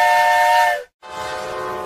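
An old train's steam whistle shrieks in a loud, steady tone with hissing steam, cuts off briefly, then resumes as a broader hissing wail.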